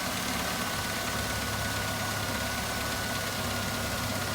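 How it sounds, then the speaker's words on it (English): A Ford B2300 pickup engine idles low and steady, a continuous humming drone with a faint, uneven wobble in its low rumble and no talking over it. "It's idling real low. It's kind of humming along."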